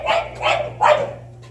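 A dog in a horror video game barks three times in quick succession, sharp and fairly close, in a dark open outdoor scene, with a low steady hum underneath.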